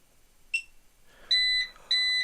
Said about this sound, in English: the two beeps warning that you're on the UPS